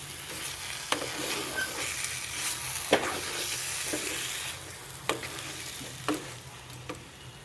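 A mixture cooks in a pan with butter and coriander leaves, sizzling steadily while a spoon scrapes and stirs it in repeated strokes, close and clear with no talking.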